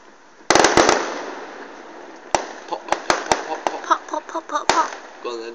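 Small fireworks popping outdoors: a quick loud cluster of cracks opens, then scattered sharp pops follow at irregular intervals over a hissing, fizzing background, and voices can be heard in between.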